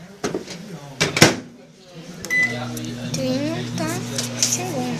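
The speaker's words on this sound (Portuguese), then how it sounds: "Agora você vai levar um micro-ondas 30 segundos. Uma micro-ondas de verdade." A microwave oven is started to run for 30 seconds: a few sharp clicks and clunks come first, then a steady low electric hum settles in and continues under someone talking.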